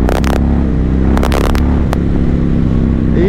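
A 2005 Yamaha MT-01 motorcycle engine idling nearby with a loud, deep, steady rumble, while a few sharp clicks and rustles break in over it.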